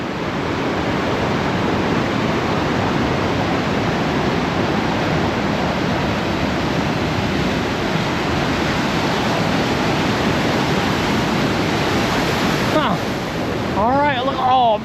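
Waterfall on the Highway 2 trail in Washington at Eagle Falls or Deception Falls, a loud, steady broadband rush of falling water throughout, with a voice coming in briefly near the end.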